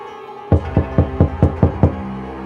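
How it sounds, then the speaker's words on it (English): Seven evenly spaced knocks on a door, sharp and close, sounding out one after another in a quick steady rhythm, then stopping. "When he knocked on the door, he was greeted by an empty echo."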